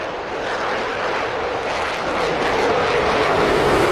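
Steady, loud jet engine roar from an F-14 in the DCS flight simulator, a continuous broadband rushing drone that swells slightly toward the end, heard alone without talk.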